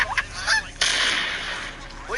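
A goose honks loudly and close by, several harsh calls in quick succession, with a brief burst of broadband noise in the middle.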